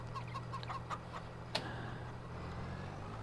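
Chickens clucking in the Farming Simulator video game: a few soft, faint clucks in the opening second over a steady low engine hum, then one sharp click.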